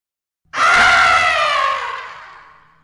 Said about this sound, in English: Morgoth screamed as the green flame died.